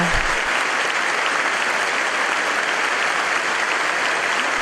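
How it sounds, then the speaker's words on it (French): Loud, dense applause from a congregation at a Bible study gathering in Santiago de Chile, a continuous roar of many hands clapping at even strength throughout, with no voices over it. "C'est pour cela, avec vous, un fort applaudissement."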